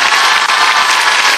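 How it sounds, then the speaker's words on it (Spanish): Audience applause at a live event, a dense, steady wash of clapping from a crowd that holds evenly through the short stretch without a break. "Aplausos."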